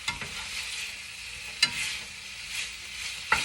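Ground meat fries in a pan for Mexican rice, giving a steady close sizzle broken by two sharp scraping stirs.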